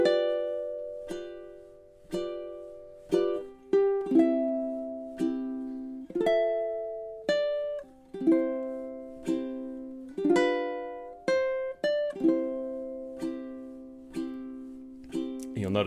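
Solo ukulele picking a later passage of O Holy Night, single bright plucked notes and occasional double stops struck one after another at a gentle tempo, each ringing and fading before the next.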